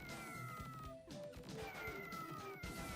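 Cats meow and caterwaul continuously in the Keio Flying Squadron video game, a dense, loud chorus of overlapping cries with crashing game effects underneath.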